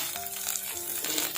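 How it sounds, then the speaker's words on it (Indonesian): Beef sizzles in hot oil for Indonesian tongseng, a brief close hiss of frying with a faint tonal hum beneath. "Tuh, emak dagingnya digoreng ya."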